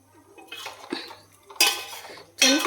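Beef curry with masala stirred in a pot, a few loud scraping, clanking strokes of a spoon against metal, separated by short quiet gaps.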